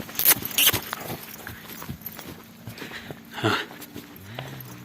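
A pregnant mare walks along on a Carpathian-foothills farm, her hooves clip-clopping in an irregular series of close knocks over a steady background hum, with a brief louder scuffle near the end.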